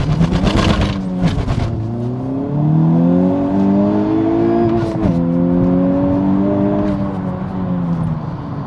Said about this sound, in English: So let's have a few more goes and we'll call it quits.